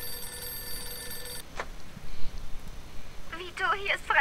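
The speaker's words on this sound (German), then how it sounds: "Telefon klingelt schon wieder" An old-style telephone bell rings in the game Mafia 2, a steady, bright ring that lasts over a second and then cuts off, followed by faint scattered sounds and quiet voices.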